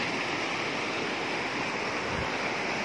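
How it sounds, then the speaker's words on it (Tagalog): Steady, loud rushing water fills the scene, a powerful current roaring continuously without letup. "Lakas ng agos ng tubig."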